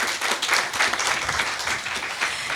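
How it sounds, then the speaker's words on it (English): An audience applauds an award-winning author at a book talk, a dense, steady wash of many hands clapping throughout, fairly near and loud with no voices over it. "can we have a big round of applause for Thomas?"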